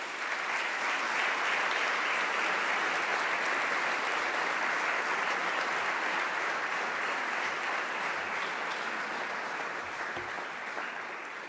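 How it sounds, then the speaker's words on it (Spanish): Sustained audience applause at a science lecture on neutrinos, a dense, steady wash of many hands clapping that stays loud and even for the whole stretch before tapering slightly at the end. "vamos a darle un aplauso"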